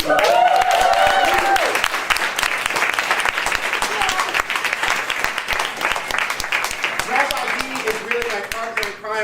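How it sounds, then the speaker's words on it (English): A dense, sustained round of audience applause for Rabbi Darkside fills a live freestyle show, steady clapping from a crowd with a voice talking over it. "can we give a round of applause for Rabbi Darkside?"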